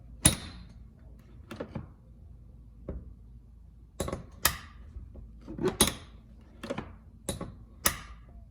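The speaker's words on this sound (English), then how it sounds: "now, when you open this door, it works really good. No more hearing the plastic get in the way of it closing." Door on a Can-Am Maverick Sport Max UTV, sharp clicks, latch snaps and thuds from opening and closing, close and distinct, spaced irregularly against a quiet background.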